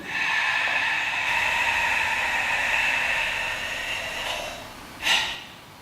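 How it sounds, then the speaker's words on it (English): Breathing exercise during a karate lesson: a steady, breathy airflow of fast inhales and slow exhales runs close and fairly loud for several seconds, ending with a sharper puff of breath near the end. "Inhale fast. Exhale slowly."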